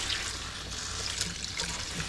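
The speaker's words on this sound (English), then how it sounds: "The water is running really hot." Hot tap water runs steadily over loosened lettuce leaves in a kitchen sink, a continuous close splashing rush with no pauses and no talking.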